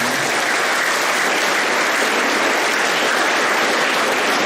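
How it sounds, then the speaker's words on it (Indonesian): A church congregation bursts into dense, sustained applause during a sermon, loud and even from start to finish with no voice rising above it. "Tepuk tangan dong buat Tuhan Yesus."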